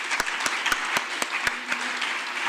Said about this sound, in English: if they would just stand for another round of applause